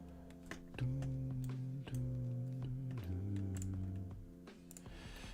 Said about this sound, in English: I think you might hear my mouse clicking